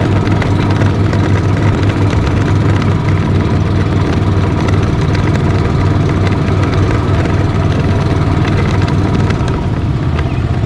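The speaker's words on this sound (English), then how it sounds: "I'm driving the golf cart. Starting, first pull." An EZGO Workhorse 1200 gas utility golf cart with a repowered engine running loud and steady throughout, a dense close drone with rough low rumble and no pauses.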